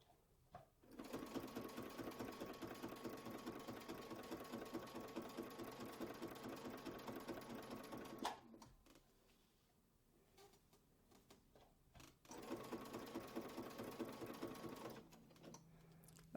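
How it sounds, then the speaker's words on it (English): A sewing machine stitches along the line of a quilt block, running in two long steady bursts with a rapid even mechanical rhythm, separated by a short quiet pause, close and loud with no talk. "stitch, stitch, stitch on top of the existing stitching line"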